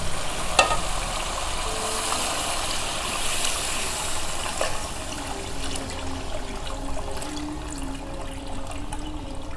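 Yakhni broth is poured slowly into beef trotters fried for a few minutes for Lahori paya, giving a steady sizzle and watery bubbling that fills the pot and settles into a softer simmer.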